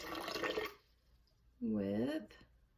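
Water pours into a plastic bottle being filled about a quarter full, a splashy burst followed by a rising gurgling fill as the level climbs, with a short pause between pours.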